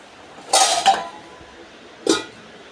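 A metal lid is set onto a pan of drumstick curry with two quick clattering clanks and a creak. A second sharp clink follows a moment later against a quiet background.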